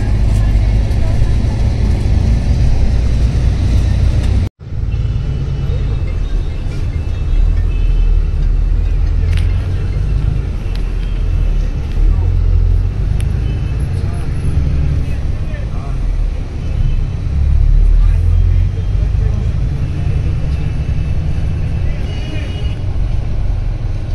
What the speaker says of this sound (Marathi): मुंबईतले ट्रॅफिक परत एकदा सुरू झाले आहे।